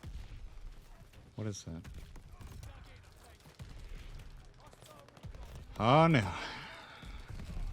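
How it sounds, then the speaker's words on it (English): Explosions from a mortar strike sound in Call of Duty: Vanguard as dull, distant booms mixed with game noise, while a player speaks over them. "They put a mortar strike, didn't they?"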